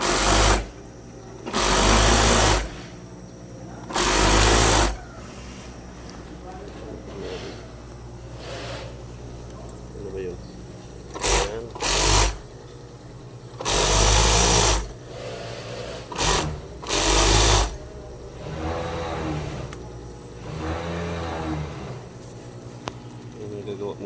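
An industrial sewing machine stitching trousers runs in several loud, separate bursts of a few seconds each, with quieter stretches between them where people talk.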